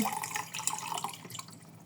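Juice syrup pours into a container of water, trickling and splashing in a quiet, close stream that tapers off toward the end, with no talk.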